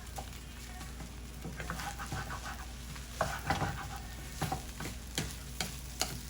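A metal spatula scrapes and stirs egg fried rice around a small wok, giving soft irregular scraping strokes and light sizzling, with a few sharper scrapes later on and no talking.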